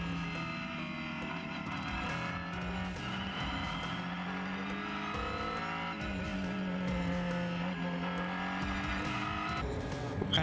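Onboard a Renault Sport Trophy race car at Spa, the engine drones loud and steady close up, pitch rising and falling through gear changes as the car laps the circuit.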